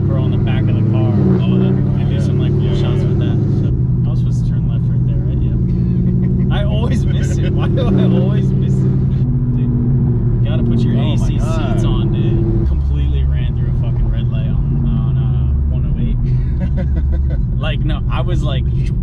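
A 2018 Camaro ZL1 with Kooks long tube headers and no mufflers rumbles continuously from inside the cabin while driving, a deep steady exhaust drone with shifting swells, under ongoing conversation between occupants.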